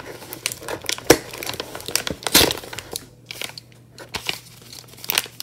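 A paper envelope is handled and opened up close, with bursts of crinkling and rustling, one sharper tearing crackle, and short pauses between the sounds; no talk.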